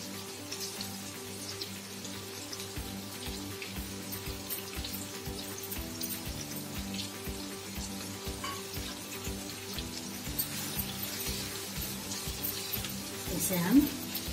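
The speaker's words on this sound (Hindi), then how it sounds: "इसे हम 2-3 मिनट तक भून लेंगे" Tomatoes fry with garlic and dry masala spices in a pan, giving a steady, rain-like sizzle with soft stirring taps throughout, close and fairly quiet, with a brief louder clink near the end.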